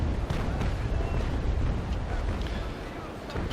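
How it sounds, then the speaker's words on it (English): Ship cannons in the naval sailing battle game Naval Action Legends, firing as a sustained, loud rumbling barrage of booms that blend into a continuous roar. "Take a shot at its rigging with my stern."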